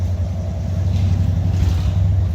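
A Buick Regal-T with a 455 Stage 1 engine idles steadily with a deep, continuous low rumble, close and even, with no voices.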